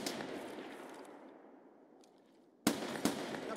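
In an Escape from Tarkov PVE match, a burst of gunfire fades into a long echoing tail, then two sharp, loud shots crack close together.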